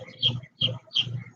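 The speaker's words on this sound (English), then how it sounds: "You hear the birds singing your praises." Birds sing in three short repeated phrases of chirps and coo-like notes, close and moderately loud, with no talking.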